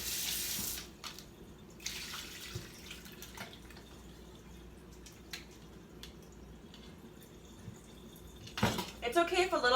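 Cold water runs from a kitchen sink tap while raw pork is rinsed, a steady close splashing flow with a brief louder burst near the end.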